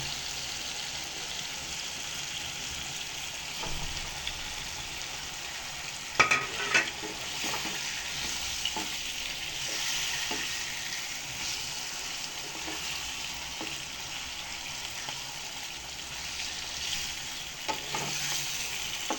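Sliced pangas fish fries in spiced oil with a continuous close sizzle, broken by occasional clinks and scrapes of stirring and no voices.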